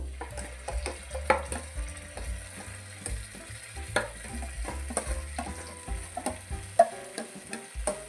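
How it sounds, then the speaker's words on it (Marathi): Khoa and rice paste being stirred and fried in ghee, giving a soft, steady sizzle broken by irregular scraping and clinking of a spoon against the pan, close by with no talking. "तुपामध्ये खवा परतून झालेला आहे आता यामध्ये हे आपण जे भाताचं वाटण केलेलं आहे त्याच्यामध्ये टाकून घेऊ"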